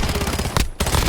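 Automatic gunfire in the Warzone video game, a dense rapid burst of shots close and loud that briefly drops out before resuming, with no talk over it.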